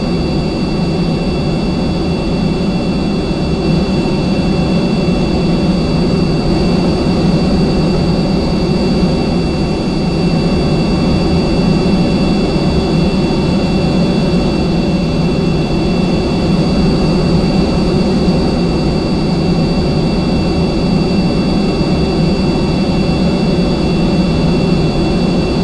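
B-52 jet engines in Kerbal Space Program give off a constant loud roar with a deep rumbling base and a faint high whine, steady and unbroken throughout with no voices.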